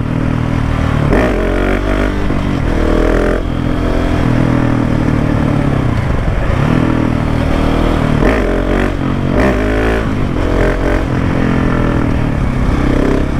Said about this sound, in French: vraiment le moteur marche beaucoup mieux avec le silencieux